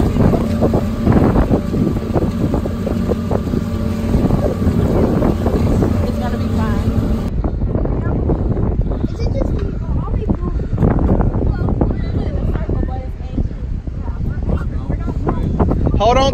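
A boat moves over the water with a steady engine rumble and gusty wind buffeting the microphone while people talk nearby.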